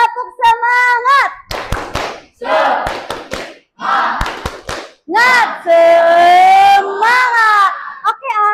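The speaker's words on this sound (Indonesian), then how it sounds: "Sekarang kita tepuk semangat ya. Tepuk semangat." A class of seventh-grade pupils chants and claps together in a rhythmic 'tepuk semangat' routine, with loud group voices and sharp clap bursts alternating in quick, patterned sections.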